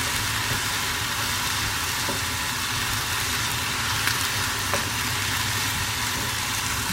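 Frozen peas dropped into a frying pan of cooked-down leeks; a steady loud hiss of frying fills the moment, with a couple of faint clicks from pan or utensil and no talk.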